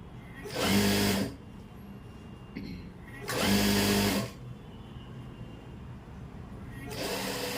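A sewing machine stitches a kurti sleeve in three short whirring bursts of rapid needle clatter, separated by quieter pauses with faint background noise.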